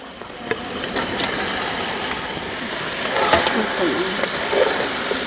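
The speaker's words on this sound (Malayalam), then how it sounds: "എന്നിട്ട് നമ്മൾ വറുത്ത് വെച്ചിരിക്കുന്ന ചിക്കൻ്റെ ഇട്ട് കൊടുക്കുകയാണ് കേട്ടാ" Previously fried chicken added to a pan with plenty of onion and tomato and stirred, a steady sizzle with scraping spoon strokes, close and moderately loud.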